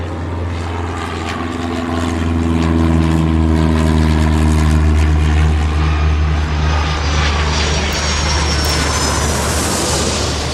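Airliner engines from an airport-management game drone loudly and continuously, a deep propeller-like hum with steady low tones, swelling slightly midway and holding alone without any talk.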